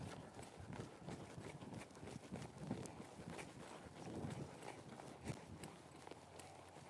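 A young two-year-old horse trots on her own during early training, hooves clip-clopping in a steady run of muffled beats with light wind noise over the microphone.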